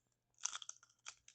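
Close, quiet crunching of a potato chip being bitten and chewed, a few crisp bursts in quick succession with no talk.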